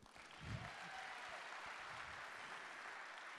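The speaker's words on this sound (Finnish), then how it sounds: "Aplodit loppu kesken. Annetaan uudet." A Finnish restaurant industry event audience claps in a brief, faint burst of steady, dense applause heard from a distance.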